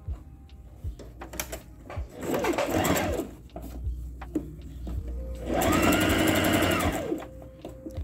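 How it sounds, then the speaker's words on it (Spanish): Sewing machine running a straight stitch on a bra without metal underwire, two close bursts of rapid mechanical whirring, a short one and then a longer one, separated by lighter handling clicks. "La primera puntada que estoy dando también es con recta"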